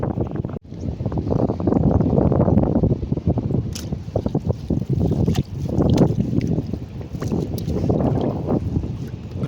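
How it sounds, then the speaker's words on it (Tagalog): Wind over open sea during a small-boat fishing trip, a continuous rough rushing and buffeting against the microphone, loud and gusty with brief dips. "Mahangin pa rin."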